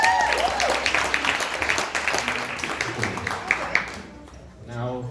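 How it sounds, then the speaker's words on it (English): An audience breaks into applause at a youth speech event, clapping densely at first and then thinning to scattered claps before fading out, while a voice speaks over it. "Please give him a round of applause."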